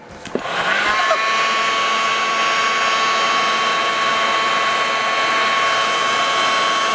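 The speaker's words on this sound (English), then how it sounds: "a little paint stripper here, and just heat it directly onto the head." A hot air paint stripper blasts heat onto the cylinder head of an OS 105 HZ model engine, kicking on with a click and settling into a steady, loud whooshing roar with a faint constant whine, no talking.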